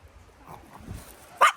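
A dog gives a single sharp, loud bark near the end, after a stretch of low background murmur.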